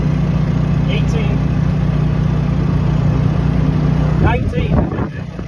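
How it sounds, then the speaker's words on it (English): Generator engine of an electric hybrid golf cart running below full revs while the cart is driven, a steady low droning hum held throughout with a rattly shift near the end. "The generator is definitely not fully revved up"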